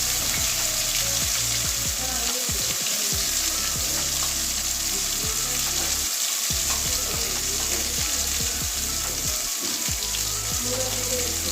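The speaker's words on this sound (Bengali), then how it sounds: "তেল গরম হয়ে গেছে এবারে এই মশলাগুলোকে ভেজে নেব" Spices frying in hot oil for a Bengali spiced stuffed flat-bean (shim) fry, a dense steady sizzle and crackle throughout with occasional stirring scrapes, close and loud, with no talking.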